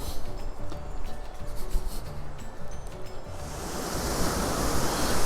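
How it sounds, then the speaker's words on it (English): A waterfall rushes in a steady, broad wash of water noise that grows louder and fuller partway through, heard alone without speech. "we stumble across a beautiful waterfall"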